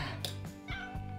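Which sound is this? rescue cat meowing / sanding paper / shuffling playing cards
rescue cat meowing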